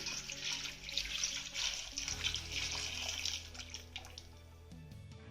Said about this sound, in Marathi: यामध्ये घालूया भरपूर असं पाणी.